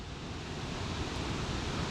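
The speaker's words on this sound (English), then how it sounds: "There's a lot of water running over it." Steady rushing roar of water pouring over a spillway at a frozen lake in winter, a dense continuous wash with no breaks, heard on its own.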